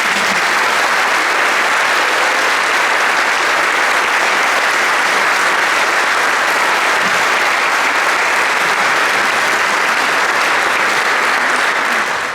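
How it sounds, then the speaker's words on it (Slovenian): An audience at a municipal awards ceremony in Sevnica applauds the singers with dense, loud, sustained clapping that fills the room evenly and continues without a break. "Namenimo jim še en aplavz."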